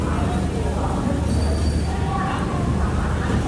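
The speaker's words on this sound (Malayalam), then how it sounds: "ആ ട്രെയിൻ പോകുന്ന കാണുന്നില്ലേ?" The Shalimar Secunderabad Express, also called the East Coast Express, rolls past on the rails as a steady, loud rumble of wheels, with a faint squeal and a voice speaking over it.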